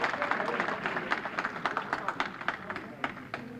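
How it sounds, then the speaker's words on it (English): Audience applause at a veterans appreciation brunch, with many hands clapping in an uneven, crowded patter that thins toward the end, accompanied by murmured voices. "Please keep the applause going"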